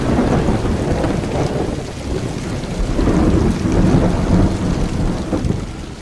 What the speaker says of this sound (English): First the thunder and lightning grew closer. Then came the wind and rain.